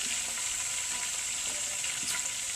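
Fish cooking in butter in a pan gives a steady, close sizzle with a dense, even hiss that holds unbroken throughout, with no voices.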